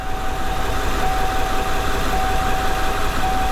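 A 7.3 Powerstroke diesel in a Ford Club Wagon with 200,000 miles idles steadily after starting, a loud, even rumble with no voices.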